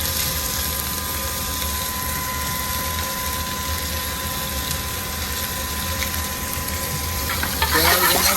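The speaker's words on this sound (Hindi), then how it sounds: "थोड़ा भूनते हैं इसको और डालेंगे प्याज।" Whole cumin, mustard, nigella, coriander and fenugreek seeds roast in a pan, giving a loud dense steady crackling sizzle close up, with a faint steady hum running underneath.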